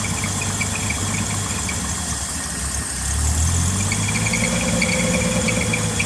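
Engine idling on Isaac's project vehicle, a steady close rumble with a faint rhythmic knock that swells slightly louder and deeper midway as it picks up a little, with no talking.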